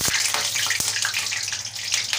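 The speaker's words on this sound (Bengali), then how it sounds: "কড়াতে সর্ষের তেল দিচ্ছি।" Mustard oil poured into a hot wok (kadai) makes a steady, close, hissing splash for about two seconds, with no voices.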